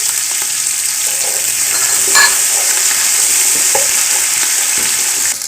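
Ginger garlic paste and green chili paste fry in a pan while cooking chicken biryani pulao, producing a loud, dense, continuous sizzle with faint scraping, close and unbroken, no voices.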